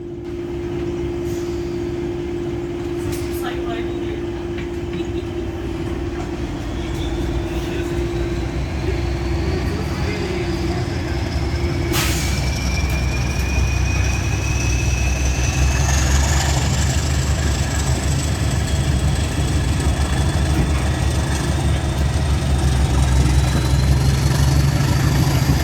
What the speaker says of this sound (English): It was soon time for the English electric engine to fire up and power the train out of Porto.